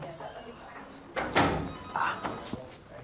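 A door in a children's hospital is opened and pulled shut, a soft swing followed by a dull knock and brief rattle, close by, with talking in the background.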